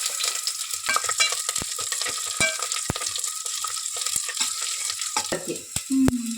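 Curry leaves sizzling in hot tempering oil with mustard seeds, in a dense crackling fry punctuated by sharp pops and scrapes. A brief voice is heard near the end.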